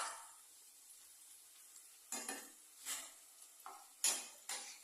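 Food simmering in a pot on the stove, with quiet bubbling and a few sharp bursts of stirring and clinking against the pot, no voices.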